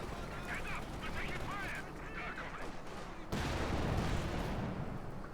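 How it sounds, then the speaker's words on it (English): Mortar fire lands on a Sherman tank in Company of Heroes 2, giving rumbling battlefield blasts and a heavier burst of booming noise partway through, with voices talking over it. "Mortar on top of the Sherman there."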